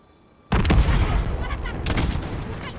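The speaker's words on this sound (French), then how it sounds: "Fais exploser le véhicule, Alex." A vehicle blown up in Call of Duty Modern Warfare: a sudden loud explosion erupts after a half-second of quiet, followed by continuous booming, crackling gunfire and debris for over two seconds.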